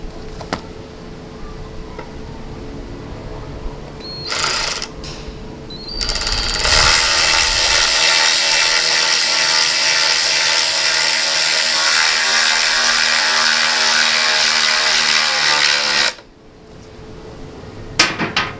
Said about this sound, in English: Then I'll put in the screw.